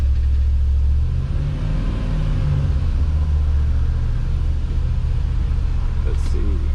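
A 1992 Land Rover Defender 110 V8 with under 10K original miles runs cold on choke, a loud steady low rumble held throughout, with a voice talking over it.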